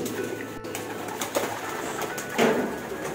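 Racing pigeons being released from a loft and taking off for summer race training, with soft coos and brief wing flutters over steady background noise and a louder burst of flapping near the end.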